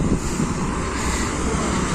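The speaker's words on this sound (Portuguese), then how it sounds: "E tá ventando muito, galera." Heavy wind buffeting the microphone, a steady low rumble with gusty fluctuations, loud and continuous with no voices.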